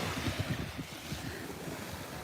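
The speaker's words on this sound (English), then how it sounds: "hear the action of the water" Gentle waves lap at Fort Lauderdale beach on a calm day, a soft, steady wash with small rhythmic pulses and some light wind noise on the microphone, no talking.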